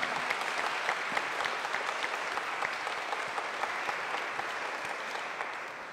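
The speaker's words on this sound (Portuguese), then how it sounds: "Vamos acolher quem está em casa com uma calorosa salva de palmas?" A congregation inside the old basilica gives warm, sustained applause during a novena service, a steady dense clapping with a reverberant wash, fairly distant and even throughout.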